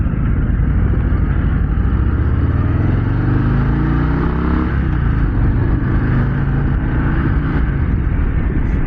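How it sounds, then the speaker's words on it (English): A 2024 Harley-Davidson Breakout 117 with a Milwaukee-Eight engine runs loudly and continuously nearby, its deep rumble rising and falling as the revs change. "I love the sound of the engines of the old Milwaukee 8"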